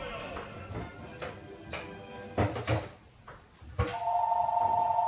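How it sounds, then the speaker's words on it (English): A home telephone rings with a steady electronic tone near the end, after a few knocks and shuffling sounds, moderately loud in a quiet room. "it's gonna ring a couple times because I have a couple phones in my house"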